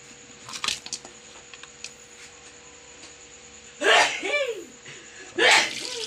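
Two loud, close sneezes from a person in a home kitchen while vegetables cook, each a sharp burst after a quiet stretch of faint background clatter.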